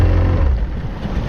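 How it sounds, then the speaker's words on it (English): A two-stroke boat engine idles at very low revs, running smoothly without rattle, a steady low throb with wind and water noise around it on a Scottish Highland shore. "It sounds like a two-stroke engine."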